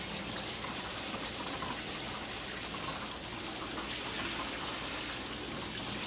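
Steady hiss of water running and draining from a camper faucet during de-winterization, a continuous broadband splash with no pauses, moderately loud and close.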